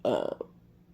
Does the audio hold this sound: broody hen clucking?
no